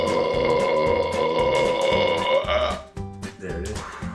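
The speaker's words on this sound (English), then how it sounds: "I got a big burp wave on me." A long, loud, droning burp follows drinking Sprite with banana. It rumbles steadily for a few seconds, then breaks off into shorter gurgling belches, very close to the mic.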